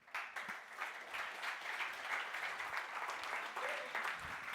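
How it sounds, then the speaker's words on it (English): An audience at a digital technology summit applauds to welcome the next presenter. It is a steady, dense wash of clapping from a crowd that lasts several seconds, with faint voices underneath. "Your applause, please"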